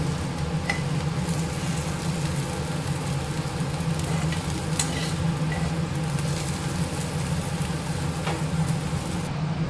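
Okra with chana dal being tempered again in the same hot oil, giving a continuous dense sizzle over a low steady rumble, even and unbroken from start to finish.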